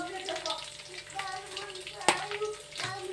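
Food sizzles in hot oil in a home kitchen, a soft continuous frying hiss with a sharp clatter partway through and a few light pops.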